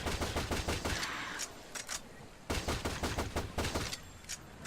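Rapid bursts of pistol gunfire in the Shadowgrounds video game, loud sharp shots in quick repeated volleys with brief gaps, alone without talk.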